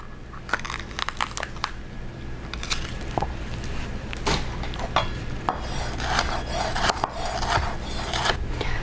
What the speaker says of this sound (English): we're just gonna chop up half of a sweet red pepper